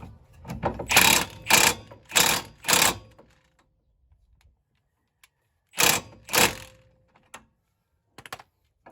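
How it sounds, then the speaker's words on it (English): An impact wrench tightens the brake caliper bolts on a Honda Element in four quick rattling bursts, then two more after a pause, close by in a quiet garage. "once you got them on, just hit them with the impact"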